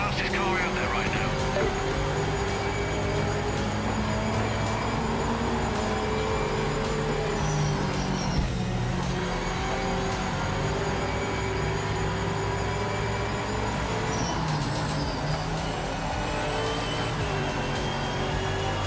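In the racing game Project Motor Racing, a GT3 race car engine roars loud and continuous, rising and falling through gear changes and cornering, while a person talks over it.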